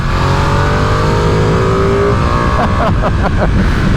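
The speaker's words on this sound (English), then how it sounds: "Such a good engine noise, such a good noise." A loud Ducati Panigale V2 sport motorcycle engine revs hard and climbs steadily in pitch, then shifts through several quick gear changes near the end, close and continuous.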